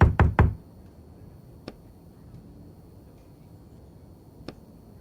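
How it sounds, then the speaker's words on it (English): Knocking on a door in the video game The Bookwalker: Thief of Tales: a quick run of three loud, close raps, followed by two single fainter knocks spaced apart over a quiet background. "Let's keep knocking. Sounds almost like a drum beat."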